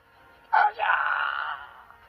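A single anguished scream: a sharp cry that breaks, then a long wailing moan that fades, loud and alone.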